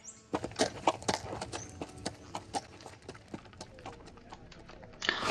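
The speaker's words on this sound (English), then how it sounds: "whole clip of the horse running every single time." A horse in a video game gallops with rapid, uneven clip-clop hoofbeats, close and distinct, fading slightly midway before picking up again at the end, with no talking over it.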